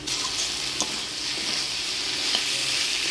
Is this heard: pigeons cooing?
no